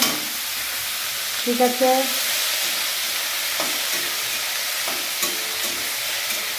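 Oil with salt sizzles in a pan as a spoon stirs it before dal and potatoes go in, a steady hiss with scattered scrapes and a short spoken question near the start.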